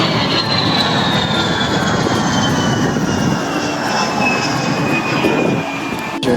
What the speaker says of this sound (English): There's a lot of airplanes here.